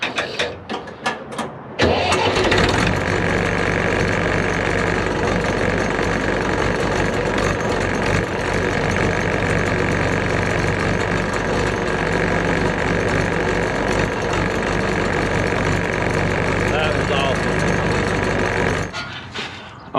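A tractor engine cranks with a few sharp turns, catches and settles into a loud, steady idle right at the exhaust, rumbling evenly for many seconds before cutting off near the end.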